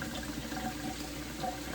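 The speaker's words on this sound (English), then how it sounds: "Even with the running water, that's still gotten warm from the eggs already" Tap water runs steadily over boiled eggs in a bowl, a continuous close rushing splash with no pauses and no one speaking.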